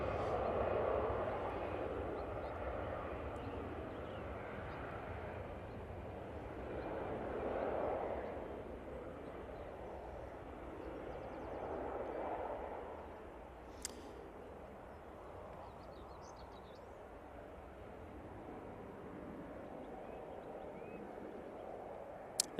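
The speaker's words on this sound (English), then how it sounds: "This Aer Lingus A320 is returning back to Dublin." An Aer Lingus A320 airliner near Manchester Airport, heard as a distant, fairly faint jet rumble that swells and fades in broad waves, with a couple of sharp clicks near the end.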